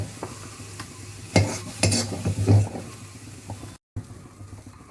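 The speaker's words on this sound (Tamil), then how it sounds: "நல்லா மிக்ஸ் பண்ணிவிட்டு ஒரு கொதி விட்டு சர்விங்க்கு போகலாம்" A spoon stirs green chilies tempered in coconut oil into cabbage kootu in a pan, giving a steady, close scraping and stirring with a low sizzle underneath and a few louder strokes.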